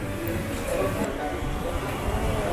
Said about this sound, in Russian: Приехали на метро.